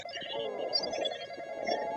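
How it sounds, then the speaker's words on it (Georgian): A telephone ringing inside a horror video game, a continuous warbling electronic ring that stays steady and moderately loud throughout without any voice over it. "ტელეფონი"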